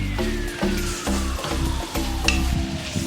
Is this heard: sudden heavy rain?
no